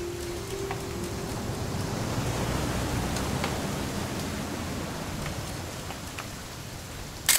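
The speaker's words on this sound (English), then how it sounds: "It's gonna rain the whole weekend, isn't it?" Steady rain falls in the game What Remains of Edith Finch, a broad even hiss of drops on surfaces running throughout, with a brief tone early on and a sharp knock at the very end.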